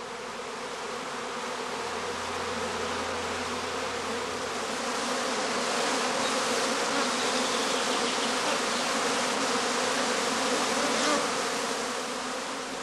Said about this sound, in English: the swarm follows the queen out of the skep entrance in a regular cascade